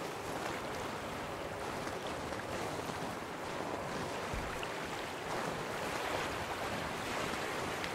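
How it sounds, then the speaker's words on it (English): Steady rushing of flowing water outdoors near a campsite, a broad continuous wash mixed with wind noise, unbroken throughout and fairly close. "I hear your water."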